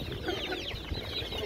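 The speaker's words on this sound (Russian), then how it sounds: "Это куры брама." Brahma chickens at an outdoor bird market cluck and murmur continuously in a dense, close chorus, with several birds overlapping.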